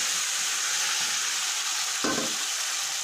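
Malabar spinach stems, pumpkin and potato pieces fry in hot oil in a pan, with a loud, steady close-up sizzle and one brief clunk of stirring partway through.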